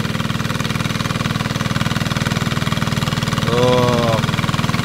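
Diesel engine running steadily with a fast, even chugging pulse, loud and close, as a short voice cuts in once near the end.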